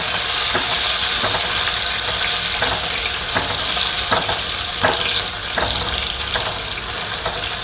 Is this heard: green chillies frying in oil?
yes